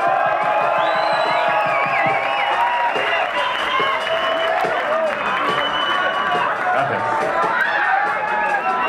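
A large crowd at a rock concert in Bogotá, Colombia claps and cheers loudly and continuously, with whoops rising above the dense applause throughout.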